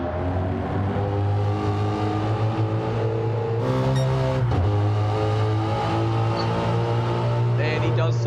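A race car engine in a Le Mans racing video game holds a steady, loud drone through the whole stretch, with a brief dip and shift in pitch midway and commentary running over it.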